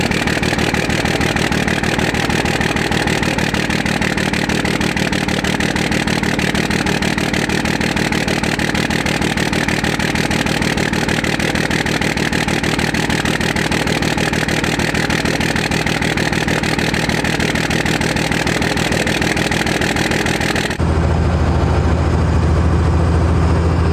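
A first-generation Cummins diesel truck engine runs loud and close at a steady, rumbling idle with a dense mechanical clatter for about twenty seconds, then the tone shifts abruptly to a lower, heavier throb.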